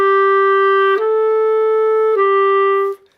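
A clarinet holds a steady, full note, then moves down through clean pitch changes while the air support stays strong. The tone is close and sustained, and it stops cleanly with no talking.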